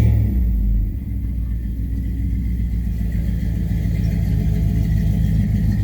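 A 2001 Dodge Durango R/T V8 with short-tube headers, 2.5-inch piping and a single-in, dual-out two-chamber muffler runs steadily, a deep, loud, continuous rumble with a slight dip early on before settling into an even idle.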